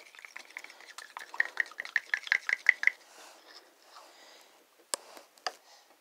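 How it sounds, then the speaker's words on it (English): Turquoise paint being stirred with a series of quick, scraping taps and clicks against the container, fairly close and fading into quieter, scattered knocks. "So now I'm going to stir up this turquoisey surf pretty"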